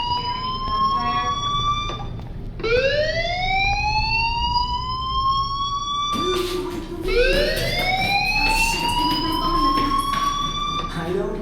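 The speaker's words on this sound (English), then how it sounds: "Hey, do you hear that fire alarm?" A rising, wailing alarm in the video game Life is Strange sweeps up repeatedly in long loud cycles, filling the scene continuously with a voice talking underneath.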